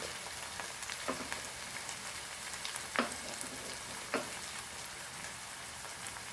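Crushed garlic dropped into hot oil in a pan for a Goan potato bhaji, a steady soft sizzle and crackle with a few sharper pops and stirring clicks, no talking.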